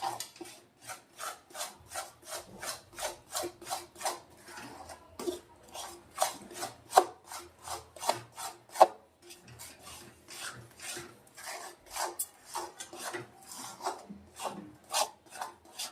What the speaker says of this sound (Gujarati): આપણે એને થોડી વાર હલાવતા રહેશું